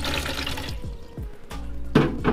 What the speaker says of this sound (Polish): Napełniam wodą zimną.